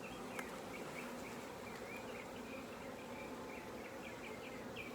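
Honeybees swarm around an open hive during a smoked inspection, producing a continuous close buzzing drone with individual bees whining past near the listener, and no talking.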